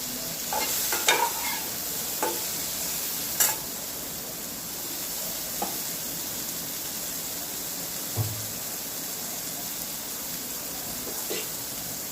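Paneer pieces being fried in a pan, a steady gentle sizzle broken by scattered stirring clicks and scrapes, mostly quiet and even.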